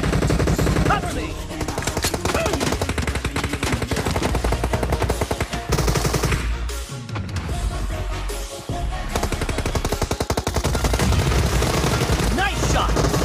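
Gunfire in the mobile battle royale game PUBG Mobile, loud rapid bursts of automatic fire, nearly continuous with brief pauses, close and dominant throughout.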